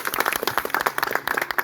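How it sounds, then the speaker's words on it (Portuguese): Congregation clapping at a Portuguese-language thanksgiving church service, a brief, dense burst of hand claps from a nearby crowd with no talk over it. "as palmas ao Senhor Jesus"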